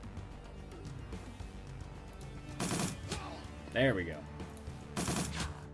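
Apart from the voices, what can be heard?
gunfire in the video game Shadowrun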